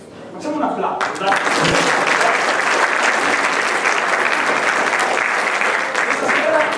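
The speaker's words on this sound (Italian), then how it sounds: "Facciamo un applauso" A theatre audience at an amateur Italian cabaret show by a dramatic company bursts into loud, dense applause after a brief quieter moment, the clapping sustained and even until the end.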